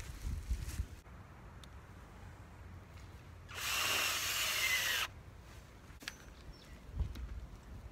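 A power drill drives shorter screws into wood while a chainsaw lumber mill is being set up outdoors: one sustained whirring burst of about a second and a half, fairly close, with a quiet background before and after.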